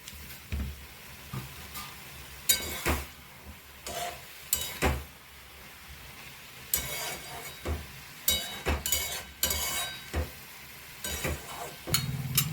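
Spinach and bathua greens stirred in a pan, with peas added: a scraping spatula and soft sizzle, irregular knocks and clinks against the pan rising and falling over a faint background hiss.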